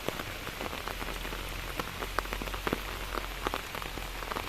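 Heavy rain falls steadily, a thick close wash of hiss scattered with sharper drop ticks and splashes, with no voices.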